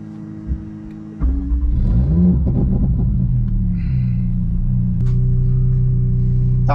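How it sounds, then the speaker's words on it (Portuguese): A car engine cranks and catches, then idles with a deep rumble, revving up and settling to a steady, loud hum close by. "Troquei o cabo já liguei o carro."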